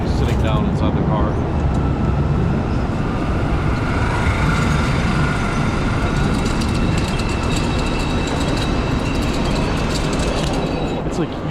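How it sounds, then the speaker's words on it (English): A train rumbles loudly and continuously nearby as it arrives at a station in western Ukraine, with squealing wheels and metallic clatter; murmuring voices blend beneath the noise. "you wait so damn long for the train to get here"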